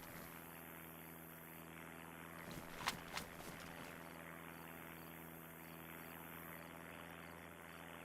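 A biplane propeller engine in DayZ drones steadily throughout, a low buzzing hum with a couple of sharp knocks near the middle.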